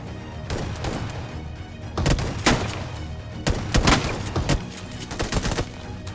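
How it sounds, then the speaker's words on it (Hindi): An enemy fires in a shooter video game: several sharp bursts of gunfire crack out in clusters over a low rumbling background, moderately loud and with no talking. "तभी बंदा पीछे से फायर कर देता है"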